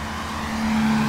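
A car drives past on a road after overnight rain, a steady engine and tire roar that swells slightly toward the end of a brief moment.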